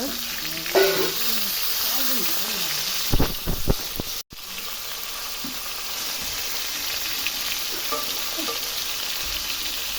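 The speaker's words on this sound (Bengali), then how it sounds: "এখন মাছগুলো ভালো করে ভেজে নেব।" Rohu fish pieces frying in oil in a pan, a loud steady sizzle throughout with brief clanks of handling and a short cut midway, close up, with a moment of faint voice early on.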